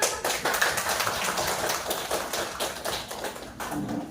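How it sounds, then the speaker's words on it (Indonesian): Small group of children clapping their hands in a classroom, a steady run of sharp, closely spaced claps continuing throughout at moderate loudness with no voices over it. "Oke, silakan tepuk tangan."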